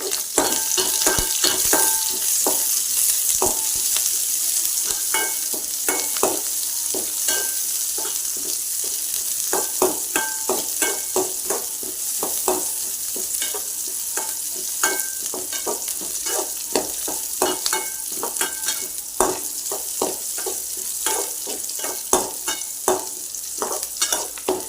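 Onion and grated coconut frying in a pan for green pea sundal, with a steady close hiss and frequent sharp scrapes and clacks of a spoon stirring throughout.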